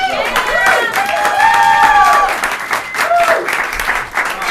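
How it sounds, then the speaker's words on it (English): A crowd at a teen improv marathon applauds steadily throughout, loud and sustained clapping filling the room, with some cheering and voices mixed in. "give a round of applause for our kids"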